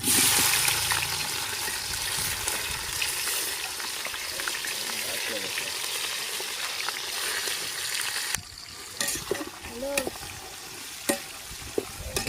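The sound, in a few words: onions frying in oil for biryani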